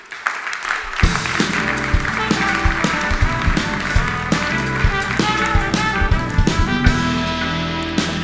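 Warm audience applause greets a guest on a late-night tech talk show, steady loud clapping over a band playing a music sting, lasting several seconds.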